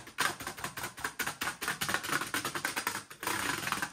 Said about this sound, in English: if you touch the keyboard, it makes the clicking sound. It's so loud.